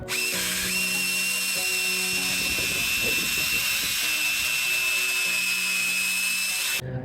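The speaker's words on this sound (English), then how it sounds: "This is how it's looking after I just did the drill brush." A drill brush scrubs a filthy floor mat, a steady high motor whine with a gritty, churning scrub running continuously underneath for several seconds, close and loud.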